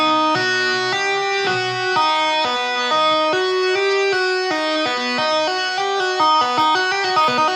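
Electric-sounding guitar runs a fast repeating tapped pattern, right-hand index finger taps mixed with hammer-ons and pull-offs to the open string, notes bright, even and closely spaced with no talking.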